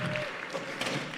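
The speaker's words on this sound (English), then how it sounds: "So give a round of applause for Carlos, Julie, and CJ real quick." Brief burst of audience clapping at a church gathering, a short dense patter that stays at an even level.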